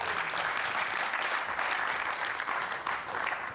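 A church congregation applauds during a French-language service, producing a sustained, even patter of many clapping hands, fairly distant and soft, continuing without a break.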